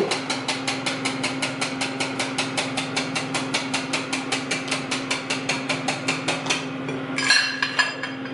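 An electric mixer beats banana cake batter with coconut oil, a loud steady motor hum with a fast rhythmic thumping of the beaters against the bowl that changes near the end.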